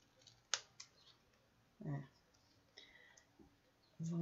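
Scissors snip through card with a sharp click near the start, followed by faint handling noises and a soft voice murmuring near the end.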